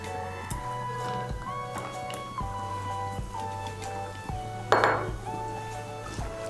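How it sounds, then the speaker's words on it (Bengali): A spoon clinks and scrapes against a pan while green chillies and garlic cloves are stirred into beans, giving a few light, irregular metallic taps over a steady low background tone, with one louder clatter midway. "কাঁচা লঙ্কা রসুনের কোয়াগুলোকেও শিমের সঙ্গে ভালো করে মিশিয়ে নেব"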